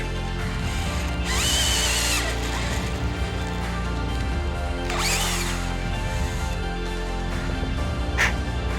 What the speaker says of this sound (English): especially for hardwood, as you're tapping your hole, go ahead and go slow speed,